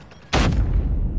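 Grenade explosion in Call of Duty ranked play: a single sudden loud blast hits after a short quiet lead-in, then a heavy low rumble lingers and slowly fades.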